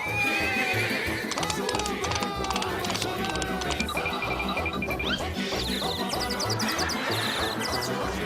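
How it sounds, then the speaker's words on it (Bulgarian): A horse neighs and whinnies repeatedly while hooves clatter and clop close by, joined by a few knocks and bangs, with no clear speech. "ромката започна да си развява коня"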